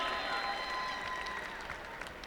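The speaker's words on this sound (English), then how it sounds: "I don't think they're clapping for me." Arena audience applause at an on-ice celebration honoring Buffalo Sabres representatives, a steady crowd clapping wash with faint tonal ringing from the venue under it, holding evenly throughout.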